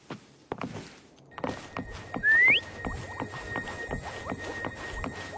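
A sharp rising whistle rings out once to call a companion in Wuthering Waves, short and loud over a busy bed of game sounds, thumps and footstep-like taps, with no talk.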